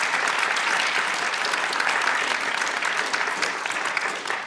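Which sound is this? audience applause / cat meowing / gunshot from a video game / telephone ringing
audience applause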